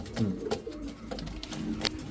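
A pair of bright red Danish pigeons coo softly and repeatedly at close range, with light fluttering and rustling around the calls.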